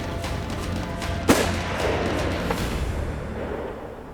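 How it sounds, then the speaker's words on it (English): A single rifle shot fired at a buffalo during a hunt, one sharp distant-sounding crack and boom rising out of steady outdoor wind noise, followed by a fading rumble, with no talk. "I'm gonna take a shot."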